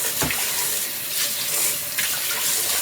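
Rinse water is poured off soaked rice into a sink, a close, steady rushing splash that runs continuously for a few seconds without any talking.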